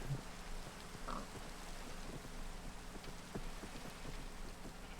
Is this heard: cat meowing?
no